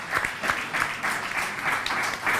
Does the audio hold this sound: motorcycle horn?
no